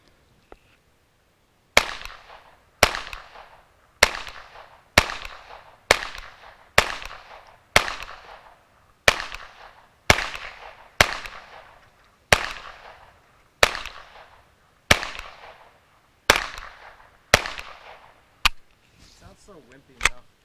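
A long string of .22 rounds from a Ruger Charger pistol, about seventeen crisp, loud, close shots spaced roughly a second apart after a quiet start, with a short spoken remark at the close.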